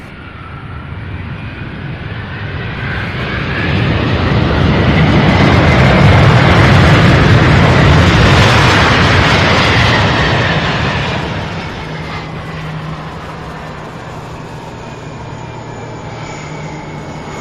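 A large jet passes at Louisville International Airport near the UPS Worldport, its roar swelling loud and broad for several seconds before easing back to a steady distant rumble.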